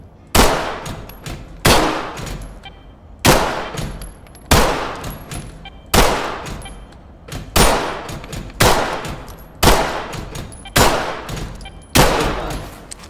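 Pistol shots at targets in the Ready or Not video game, about nine sharp single cracks at a steady pace, each with a ringing metallic tail, loud and near with no voices.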